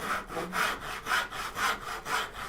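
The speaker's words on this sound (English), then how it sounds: "I'm going to cross cut in down to the depth I want there." A hand saw crosscuts wood to depth in steady back-and-forth strokes, about five even push-pull cycles of raspy rubbing, close and clear with no talking.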